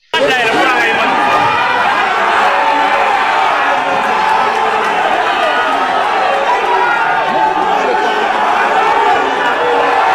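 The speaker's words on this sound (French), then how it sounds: "l'arrivée de Seydi Chérif Ousmane Madani Haïdara à l'entrée du stade du 26 mars est saluée par une immense foule" An immense crowd greets Chérif Ousmane Madani Haïdara arriving at the entrance of the 26 March stadium in Mali: a loud, continuous roar of voices, chatter and cheering, with no pause throughout.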